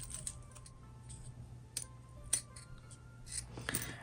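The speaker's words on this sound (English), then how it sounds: "So I'm gonna cut the extra away." Scissors snip away excess zipper material while a fabric wallet is sewn, giving a few quiet, sharp cuts and rustles spread across a hushed room with no talking.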